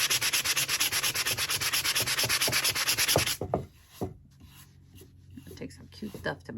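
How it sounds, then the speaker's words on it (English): Hand sanding of a piece of furniture: a steady, rhythmic back-and-forth rasp of loud, close strokes, which stops partway through and is followed by quieter handling noises. "that was probably horrible to sand like that"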